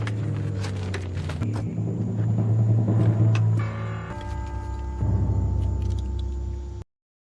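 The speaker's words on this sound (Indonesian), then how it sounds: "dia melihat sebuah mobil yang menuju ke arahnya, yang sontak saja membuatnya panik" A car approaches along a road in the zombie film Zombieland, its engine a steady loud rumble that drops and shifts as it draws near, with no talk over it.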